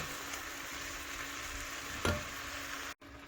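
Chunks of beef sear in a dry pan without oil for Colorado chili, a quiet, steady sizzle with a brief clatter of stirring midway and a short break near the end.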